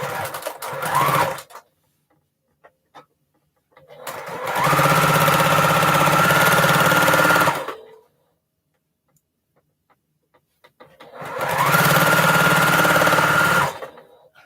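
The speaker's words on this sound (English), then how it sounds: "This a Juki sewing machine, guys. These machines will go. And it don't skip a beat." A Juki sewing machine runs in three bursts, a fast steady mechanical whir lasting a few seconds each, separated by quiet pauses, loud and close.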